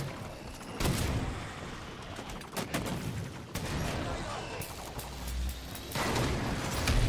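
Halo 5 weapon firing in a video game, loud repeated bursts of rapid shots with sharp reports clustered across the stretch, dense and close with no pauses.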